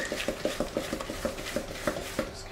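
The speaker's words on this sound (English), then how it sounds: "Just give that a little mix." Chocolate and nuts are mixed in a bowl with a spoon, making quick rhythmic scraping and clinking strokes, close and moderately quiet.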